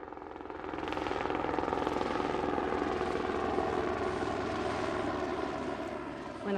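Helicopter circling overhead above parkland, a steady loud rotor and engine drone that swells in and holds throughout with no talk.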